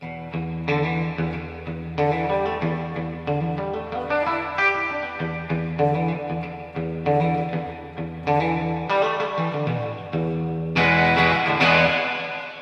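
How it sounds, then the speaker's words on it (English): Electric guitar played continuously through a Quilter 101 Reverb Mini Head amp with reverb cranked far too high, strummed chords and single notes smearing together in a dense, echoing wash, loud and alone. "So that's too much reverb"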